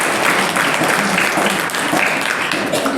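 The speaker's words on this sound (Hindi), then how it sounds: "आप लोग ताली बजाते रहे" Loud, sustained clapping from an audience at a Hindi discipleship retreat session fills the room as a steady, dense wash of applause, with faint voices mixed in.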